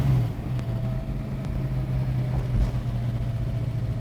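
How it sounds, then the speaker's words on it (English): A Ford car with an FE V8 fitted with a solid roller cam and a top loader 4-speed transmission pulls away on the road. Its steady low engine drone runs throughout, fairly even and close, with no talking. "This solid roller cam in this thing, I mean, really woke this FE motor up."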